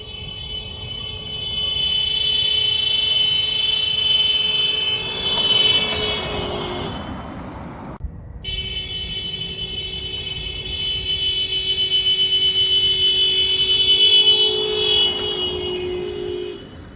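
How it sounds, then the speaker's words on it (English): A car horn sounds in a long, steady tone, pauses, then sounds again as the vehicle drives past, its pitch dropping as it goes by. "let's try it again with me driving my car and beeping the horn"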